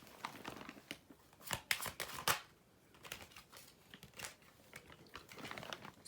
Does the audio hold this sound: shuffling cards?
yes